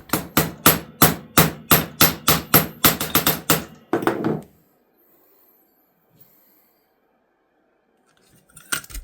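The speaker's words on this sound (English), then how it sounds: "I'll just do them on the vise quickly with a hammer. Just going to tap them flat." A hammer taps knife notches flat on a metal vise in a quick run of about fifteen sharp, ringing blows, followed by a short scrape and then near silence.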